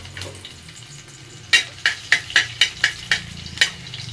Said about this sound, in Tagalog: Igigisa na natin. Bawang.